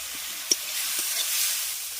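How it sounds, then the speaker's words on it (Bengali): Chopped coconut dropped into spice paste being cooked down in a pan for a prawn and pointed gourd dish gives a soft, steady sizzle and hiss, with one sharp click near the start. "এবার কেটে রাখা নারকেলটা আমি এর মধ্যে দিয়ে দিচ্ছি"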